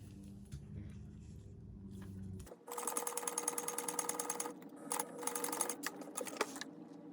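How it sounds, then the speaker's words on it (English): A sewing machine back stitching fabric while attaching a strap on a small child's bug backpack: a low hum gives way to a fast, close, rattling run of stitches with a brief pause midway. "I'm going to just back stitch and attach it right here."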